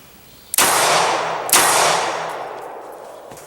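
A pistol fires two sharp, loud shots about a second apart during a firearm test, each crack trailing off into a long echoing decay, with no talking.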